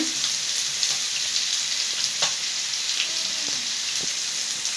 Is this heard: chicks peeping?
no